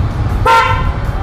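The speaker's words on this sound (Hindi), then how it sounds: "इसका हॉर्न गलत लेवल का है।" Motorcycle horn gives one short, bright toot over steady road and engine rumble during an evening ride.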